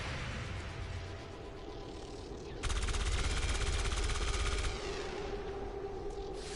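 Gunfire in the XCOM 2 video game, a loud sustained automatic burst lasting about two seconds that rises abruptly over quieter ambient game noise, then drops back.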